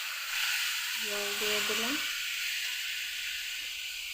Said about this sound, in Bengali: তারপর দিয়ে দিলাম জল